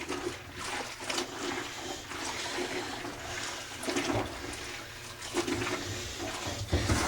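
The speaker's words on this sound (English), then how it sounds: "I'm washing this in warm soapy water" Dyed jeans being washed by hand in a bucket of warm soapy water, with steady sloshing and swirling of liquid, repeated surges of splashing and dripping at close range, no talking.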